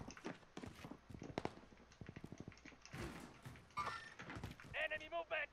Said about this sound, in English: Oh, I can hear footsteps near me.